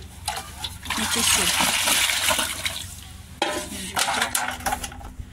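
Drumstick pieces splash and clatter into water, followed by swishing and stirring sounds, close and fairly loud, with a short pause midway.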